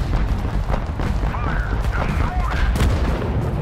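Heavy gunfire and explosions in the war game Total Conflict: Resistance: a dense, continuous barrage of rapid shots and booming blasts, loud and close, with no pause.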